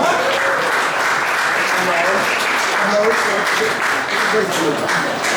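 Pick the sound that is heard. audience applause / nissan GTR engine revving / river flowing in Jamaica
audience applause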